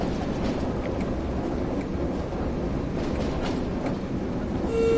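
A locomotive running with its brake applied in Train Sim World on the West Somerset Railway, a steady low rumble and rolling clatter, with a thin high squeal rising near the end.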